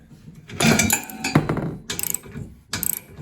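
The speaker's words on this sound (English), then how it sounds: "grab these wrenches or ratchets and tighten away" Wrenches and ratchets tightening bolts while a HaulMaster 500 lb cargo carrier is assembled, heard as bursts of metallic clicking and ratcheting with knocks and handling noise, close by and with short pauses between bursts.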